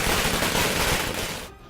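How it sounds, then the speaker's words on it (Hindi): Firecrackers set off by celebrating fans after news of a verdict: a dense, rapid crackling burst of pops, loud and continuous, that cuts off abruptly near the end. "प्रशंसकों ने पटाखे जलाकर खुशी का इजहार किया।"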